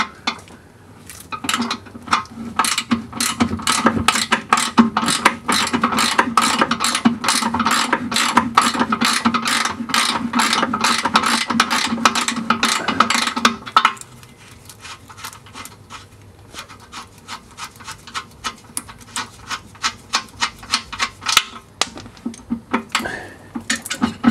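A ratchet breaks loose and spins off the pinch bolt on the inner lower front control arm of an Audi A4 B5 1.8T, with rapid, steady, close clicking for about fourteen seconds, then slower, lighter ratcheting and metallic clinks.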